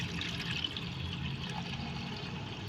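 Water is poured over soaked wheat being washed for kurdya, a steady splashing, gurgling flow close by without speech.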